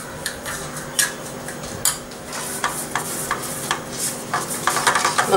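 Labneh being stirred with za'atar powder in a bowl, a steady run of soft scraping and light clinks from the utensil against the bowl, close and fairly loud, with no voices.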